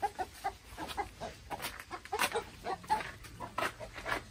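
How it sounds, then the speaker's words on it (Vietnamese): Black-bone chickens cluck in repeated short calls around a farmyard, moderately close, with a steady bustle of fowl noise and no talking. "Gà xương đen."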